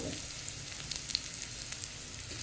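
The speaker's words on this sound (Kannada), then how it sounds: "ಸಾಸಿವೆ ಕೂಡ ಇವಾಗ ಒಡಿತಾ ಇದೆ" Mustard seeds spluttering in hot oil for a tempering: a steady, fairly quiet sizzle scattered with small, sharp crackling pops, and no voices.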